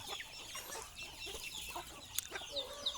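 Chickens on a small Thai farm cluck steadily across a busy outdoor scene, with a few sharper calls and occasional bird chirps rising over the continuous flock noise; no one talks.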